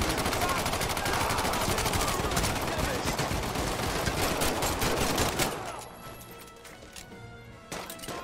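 Enemy gunfire in the Medal of Honor: Above and Beyond video game, a dense, continuous barrage of rapid shots that abruptly thins out into a few scattered shots near the end.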